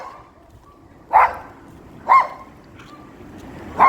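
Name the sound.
large dog barking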